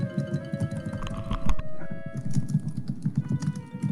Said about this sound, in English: I'm just gonna wait for the pounding typing to stop.